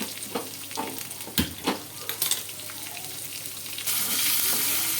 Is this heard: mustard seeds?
yes